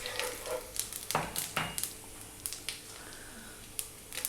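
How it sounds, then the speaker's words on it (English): Cumin seeds hitting hot reduced oil in a pan, a crackling sizzle with sharp pops and spits scattered irregularly over a steady frying hiss, close by. "We're going to start by dropping in those cumin seeds"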